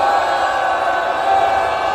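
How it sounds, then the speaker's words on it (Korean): A crowd at the close of an anti-war peace rally on a cold day lets out a massed shout of cheers, steady and full for two seconds with no single voice standing out. "편함성으로 마치겠습니다."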